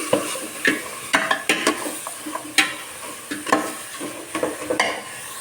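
Biryani spice paste with ginger, garlic and nut paste frying in a pot, with repeated scraping stirs and bursts of sizzle over a steady crackle, close and fairly loud, no talking.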